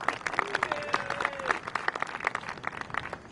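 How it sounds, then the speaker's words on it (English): Scattered clapping from a small crowd in the racing video game F1 2021, with a faint tonal chime in the background, steady applause throughout. "give yourselves a round of applause"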